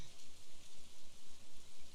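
Soft, even rain hisses steadily in the farming game Stardew Valley, a faint, continuous patter with a gently pulsing loop and no voices.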